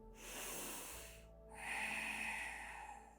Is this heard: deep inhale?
yes